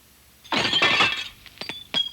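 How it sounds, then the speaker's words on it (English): Store front windows shatter in a close, loud burst of breaking glass, then a few sharp tinkling shards fall separately over the next second. No voices are heard. "were shattering the windows of Jewish-owned stores"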